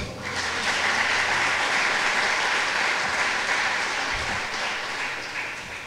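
A church congregation at a chapel conference breaks into loud, sustained applause that holds steady from start to finish, dense and close with no voices over it.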